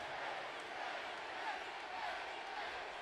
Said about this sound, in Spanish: Y el público aplaude.